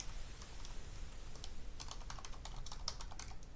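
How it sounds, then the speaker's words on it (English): Typing on a computer keyboard, close and clear: irregular bursts of key clicks that grow into a rapid, dense run in the second half, with no talk. "Good typing."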